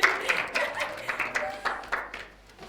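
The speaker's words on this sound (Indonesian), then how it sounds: "Tepuk tangan untuk kelompok 1" A small group claps for a presenting team in a classroom, a brief patter of uneven hand claps that thins out after a few seconds.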